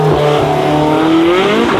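Porsche 918 Spyder hybrid with a 4.6-litre naturally aspirated V8 in Forza, revving loudly and close with a rising, falling engine note, alone without talk.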